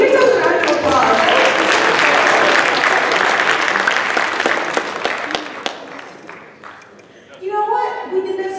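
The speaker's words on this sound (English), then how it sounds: "Give yourself a round of applause." Audience applause at a skit on team discussion, loud sustained clapping from a crowd that gradually thins out over several seconds before a voice starts speaking near the end.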